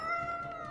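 A single short, drawn-out cat meow in the video game Tales of Berseria, clear and tonal over quiet game ambience.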